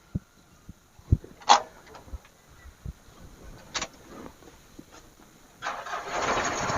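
A 2019 Mitsubishi L300 pickup engine starts: scattered clicks and knocks come first, then the motor catches near the end and settles into a steady, fairly close running roar.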